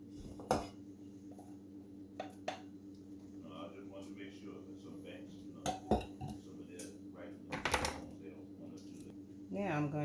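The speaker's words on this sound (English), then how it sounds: "I'm going to just use this spoon and stir it in a little." A spoon stirs mashed banana into banana bread batter in a bowl, giving scattered clinks and scrapes against the dish, close and fairly quiet, with a person talking over it.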